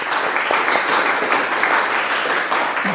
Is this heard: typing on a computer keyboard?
no